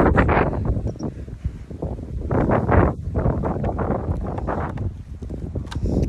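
Gusty wind buffets the microphone outdoors at a UK strawberry and raspberry picking field, a loud, continuous rumble with rustling surges and no clear speech.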